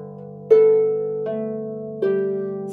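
Manx harp plucking a short phrase of the folk tune Arrane ny Niee, three clear note onsets with paired bass and melody strings ringing on, close and solo with no talk.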